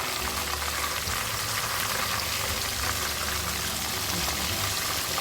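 Pomfret fish frying in a pan makes a dense, even sizzle with crackling spatter that holds steady from start to finish, close and moderately loud with no voices.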